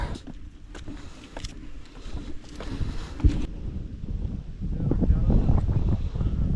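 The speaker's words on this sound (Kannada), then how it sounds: "ಒಳ್ಳೆ ಬ್ರೀಸು ತಣ್ಣ ಗಾಳಿ ಬೀಸ್ತಿದೆ ಅಕ್ಕಪಕ್ಕ" Cool breeze blows across a hilltop on the Skandagiri trek, a continuous rushing wind buffeting the microphone that grows stronger toward the end.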